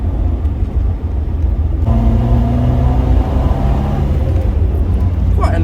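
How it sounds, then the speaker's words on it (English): 1980 Triumph Dolomite 1300 with a throaty exhaust, a steady loud low rumble that rises in pitch partway through as the engine pulls, heard from close by. "Quite a nice little throaty exhaust note there."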